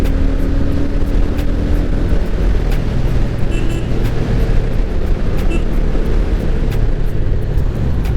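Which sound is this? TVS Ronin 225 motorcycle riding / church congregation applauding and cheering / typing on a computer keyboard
TVS Ronin 225 motorcycle riding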